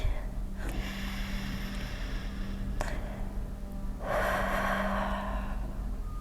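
Deep, slow breathing during a third-trimester prenatal Swiss ball workout, with audible breath sounds near the microphone, a brief sharp inhale in the middle and a longer rushing exhale toward the end over a steady background hum.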